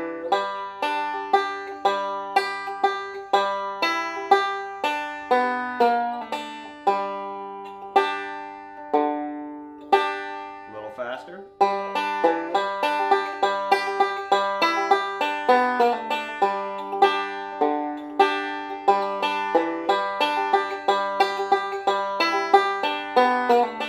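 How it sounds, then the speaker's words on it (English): Bluegrass banjo tag lick picked in full, a steady stream of bright plucked notes with ringing strings, played close and alone at a moderate tempo. "So the whole lick sounds like this."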